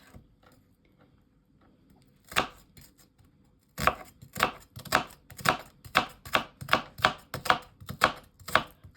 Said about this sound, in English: we will chop the onion. This onion, we chop it like this.